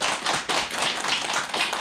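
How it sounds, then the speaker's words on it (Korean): A church congregation claps together in thanks to the Lord during a sermon, a dense steady patter of many hands close by with no voices over it. "주님께 감사 박수."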